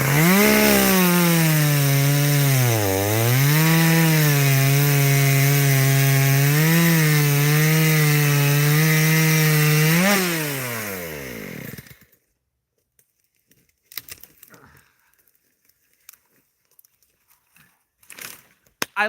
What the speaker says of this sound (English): starting the chainsaw and cutting the log